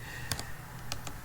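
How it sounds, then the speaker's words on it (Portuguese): Keys on a computer keyboard are pressed while Arduino code is being edited: three or four crisp, close clicks in a short irregular burst over quiet room hum. "Vou ter que colocar mais um enter aqui."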